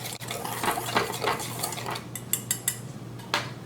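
Dry powdered seasoning is stirred in a dish, with a spoon scraping and clinking against the container in quick close strokes, ending in several sharper taps.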